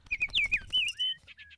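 Birds in spring sing close and clear, a quick run of bright chirping whistles and trills over a short burst, followed by a couple of softer tweets.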